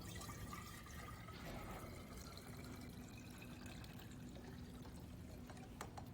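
Liquid in a chemistry demonstration of an iodine clock reaction being poured back and forth between containers, a steady soft splashing and trickling flow that carries on throughout with no talk.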